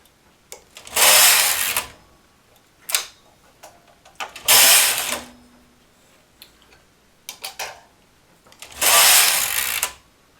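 Carriage of a knitting machine sweeping across the needle bed while knitting a rolled edge, three loud rasping passes separated by quieter clicks and mechanical ticks.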